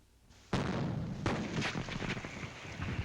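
Gunpowder and a gasoline-air mixture exploding in engine cylinders, a sudden loud blast followed by several sharp bangs and rumbling reports, heard close and without speech.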